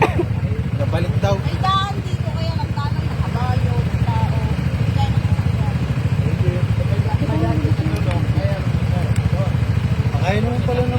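A motorcycle engine runs steadily with a low, continuous drone near a river, while people talk over it throughout.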